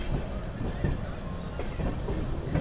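The Sanghamitra Express sits at DDU junction with a deep, steady rumble and faint rolling clatter, while muffled voices murmur nearby.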